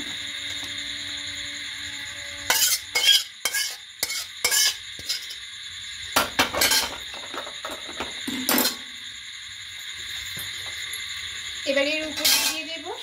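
Chicken fry momo scraped and tipped from the cooking pan into another pot, giving several sharp metallic clinks and scrapes in short bursts over a steady background hum.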